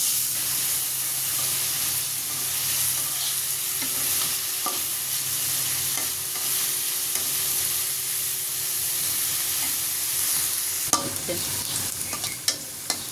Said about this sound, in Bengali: পেঁয়াজ আর মরিচগুলো হালকা বাদামি করে ভেজে নেব।